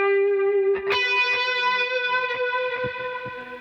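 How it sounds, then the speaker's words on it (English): A distorted, effects-laden melodic lick with sustained harmonic tones and sharp plucked attacks, blending guitar and synth, loud and close with no talking. "the main lick is held together by some guitar and some synth"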